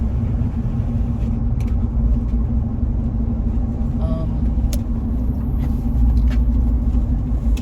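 A car drives along in traffic, its engine and road rumble low and steady from inside the cabin, with a few faint clicks and no speech.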